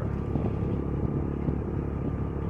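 A motorcycle engine hums in a steady low drone while riding, close and continuous with no talk over it, on a cold, drizzly street.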